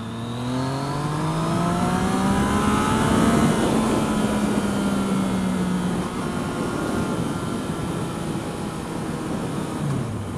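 A Yamaha MT-09 motorcycle engine revs hard on a test ride, its pitch climbing through the gears under a loud rush of wind noise, close and continuous with no talk.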